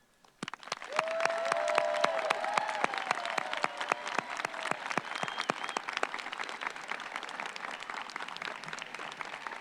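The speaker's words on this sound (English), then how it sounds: "let's conclude this ceremony with a round of applause for all of our graduates" A graduation ceremony crowd bursts into sustained applause, dense clapping that swells quickly and carries on steadily to the end, with a few faint cheers early on.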